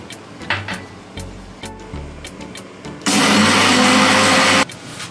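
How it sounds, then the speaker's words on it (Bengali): A kitchen mixer grinder powders cornflakes in a loud, steady whir lasting about a second and a half, preceded by quieter handling clatter. "কর্নফ্লেক্সটা আমি মিক্সিতে গুঁড়ো করে নেব।"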